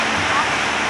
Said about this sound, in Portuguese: Só em ouvir esse barulho aqui, ó. O barulho do mar.